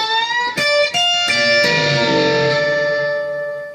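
A few picked electric guitar notes, the last bent upward and left to ring out with a long sustain, no voices.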